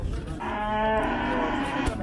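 A cow at a busy livestock bazaar in Zharkent lets out one long, loud, steady moo lasting over a second, close by, with crowd murmur behind it.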